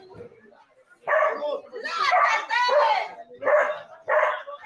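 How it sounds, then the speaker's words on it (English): Dogs bark and yip in excited, uneven bursts heard through a played video, several close loud barks with whimpering tones mixed in. "we got dogs barking"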